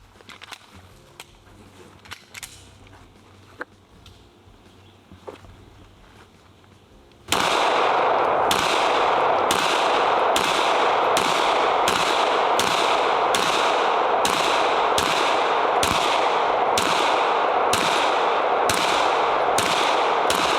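Rapid pistol shots from Canik and SAR USA handguns ring out in a steady, evenly spaced string, loud and sharp, after several seconds of quieter background with faint scattered clicks.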